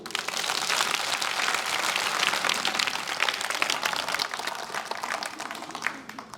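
Students in an inter college hall in Mainpuri clap in a dense, steady burst of applause that runs the whole length at moderate loudness and tapers slightly at the end.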